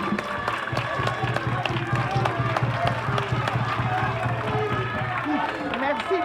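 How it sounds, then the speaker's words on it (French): A live audience claps in a dense, continuous wash at a French-speaking event, steady and fairly loud for several seconds, with a low hum and scattered voices mixed in. "Applaudissez les amis s'il vous plaît"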